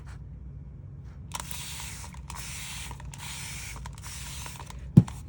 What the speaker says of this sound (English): I'm going to spray my paper.